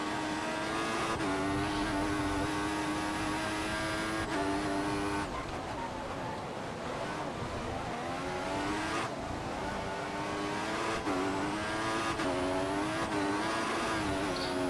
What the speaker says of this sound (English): Wheel spin again.